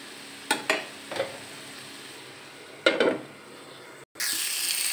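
Cauliflower with fenugreek fries in oil in a covered pan for a mashed cauliflower dish, heard as a few scraping stirs over a low sizzle, followed by a brief gap and then a louder, steady frying hiss.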